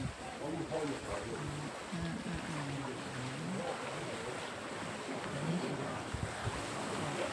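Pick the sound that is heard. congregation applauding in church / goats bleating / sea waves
sea waves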